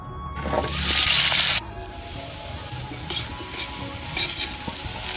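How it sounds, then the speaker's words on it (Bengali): Potatoes drop into hot oil with a loud, hissing burst of sizzle that settles after about a second into a steady, bubbling fry with occasional stirring. "এবার আলু ভাইজে নেব"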